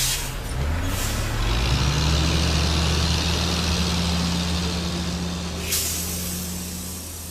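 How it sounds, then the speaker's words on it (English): A semi-trailer truck's diesel engine rumbles loud and close, its pitch shifting as it runs. Sharp hissing air-brake releases burst out near the start and again toward the end. "Semi-trailer truck"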